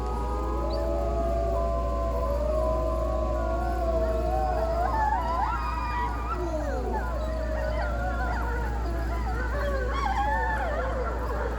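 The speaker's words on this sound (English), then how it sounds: "So those are gray wolves." Gray wolves howl in a chorus of long rising and falling wails that overlap and grow more tangled and yipping toward the end, over a steady low background hum.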